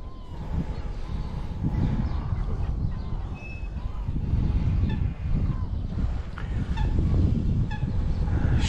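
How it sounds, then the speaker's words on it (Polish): Birds squawk and honk intermittently at a yacht marina in Gdynia, partly buried in steady wind and water noise throughout. "Ptaki śpiewają. Czy śpiewają? Nie wiem, czy śpiewają. Coś tam skrzeczą."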